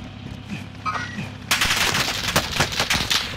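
Gunfire in the video game Call of Duty: Modern Warfare begins with a few faint shots under game ambience, then erupts into loud, dense automatic fire with overlapping bursts.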